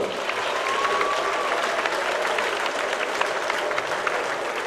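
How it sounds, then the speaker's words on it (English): Steady, dense applause from a large crowd at a boxing event fills the space continuously, loud and even throughout, after a fight decision. "give a round of applause for both fighters"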